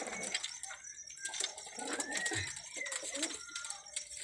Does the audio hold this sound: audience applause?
no